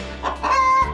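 A chicken gives a short, close, loud cluck inside a coop during a winter clean-out, with a second rising call right after it.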